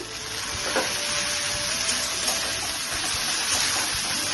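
Ginger garlic paste hits frying onions in a pan while cooking cholar dal, giving a soft, steady sizzle and hiss with faint stirring taps.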